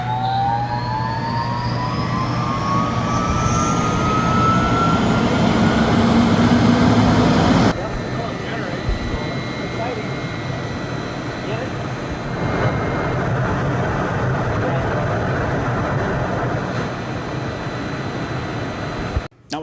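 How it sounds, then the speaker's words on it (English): An AC motor drives a DC generator as a motor-generator set runs in a motor shop, giving a loud, steady whine with rising tones early on. A person talks over the machine noise. "So we have our AC motor spinning our DC generator that's ultimately going to power that DC motor"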